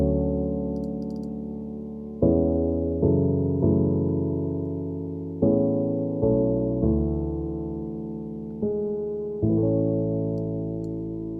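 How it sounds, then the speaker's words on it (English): The main piano part of an electronic track, played on a Kontakt sampled piano, moves through sustained chords struck every second or so, each ringing and decaying into the next, with no other sounds. "we're just gonna start off with the main piano"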